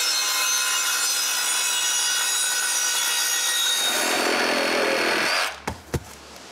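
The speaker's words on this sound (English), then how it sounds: "I need to finish the job with the sawzall." A reciprocating saw cuts through timber for a cottage woodshed, a loud, continuous buzzing rasp that stops abruptly before a couple of sharp knocks, heard close up with no talking.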